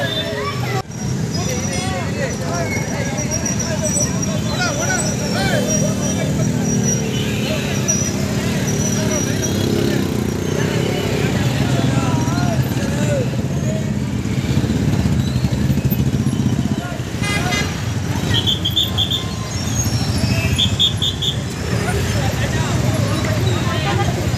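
Motorcycles in a bike rally of hundreds of dairy officials and staff in Mysuru give a continuous engine rumble beneath crowd babble, with a voice talking over it.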